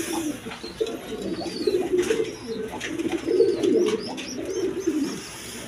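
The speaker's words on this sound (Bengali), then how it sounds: "একদম কোয়ালিটি সম্পন্ন কবুতর" Several pigeons at a breeder's loft coo in overlapping low rolling calls, close and continuous, with a few faint chirps and light clatter behind them and no one speaking.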